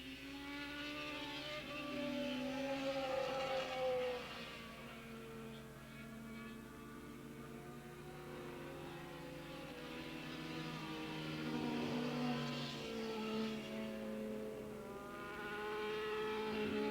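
Suzuki and Kawasaki racing motorcycles scream around Willow Springs International Raceway during a 1987 Open Super Street race. Their engines make a sustained, wavering whine that rises and falls in pitch as they shift and pass, heard at a moderate distance.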